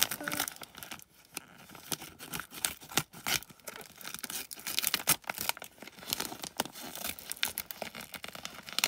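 Tape and wrapping on a very large parcel being torn and crinkled open, with repeated ripping and crumpling bursts in an uneven, busy rhythm, close and fairly loud throughout.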